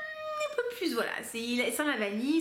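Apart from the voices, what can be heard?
cat meowing in the house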